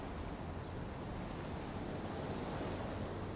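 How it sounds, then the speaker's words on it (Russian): Soft ocean waves at night blend with a faint electric hum, a steady low wash of noise holding at an even level throughout, ambient sound from the video game Disco Elysium. "Вы слышите, как легкое гудение электричества смешивается с легким шумом океанских волн в ночи."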